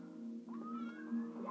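A pet cat meows once, a rising, drawn-out call close by, while music from a Super Mario 64 game plays steadily underneath.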